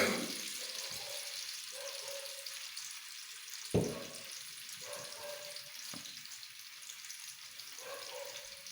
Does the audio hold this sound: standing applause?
no